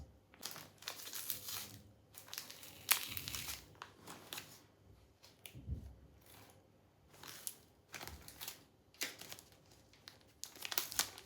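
Crinkling plastic and tape being pulled and torn in short bursts, close by, with quiet pauses between.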